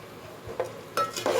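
Salted rice fried in ghee in a pot over a full flame, with a low sizzle beneath a few close, brief scraping and stirring scuffs, and no talk.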